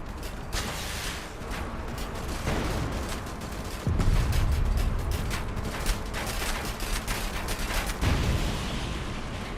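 A deep booming explosion erupts midway, followed by rumbling, with mechanical creaks and scattered gunfire-like crackles throughout; another heavy thump lands near the end, in the video game Diesel and Dust Deadland Delivery.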